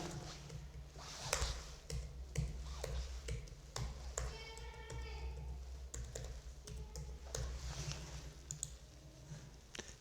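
A computer keyboard and mouse clatter close by while working in an Excel spreadsheet: bursts of quick plastic key taps and single mouse clicks in an uneven rhythm over a low electrical hum.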